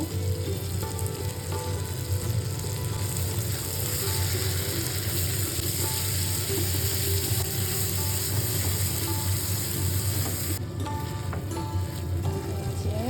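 Dried loitta fish (shutki) sizzling and frying in oil with chopped onion and garlic during a bhuna, a steady, close, dense crackle lasting throughout with no talking.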